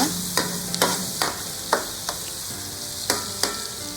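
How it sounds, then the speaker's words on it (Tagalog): Tomatoes sautéing in a little oil, a constant close sizzle punctuated by regular scraping strokes of a spatula, about eight sharp stirs spaced through the stretch; no talking. "After natin masutay ang kamatis, hanggang sa lumambot siya,"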